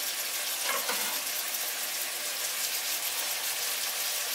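Onions frying with minced meat in a pan, a continuous close bright sizzle with a brief scrape of stirring near the start, steady and moderately loud with no talking.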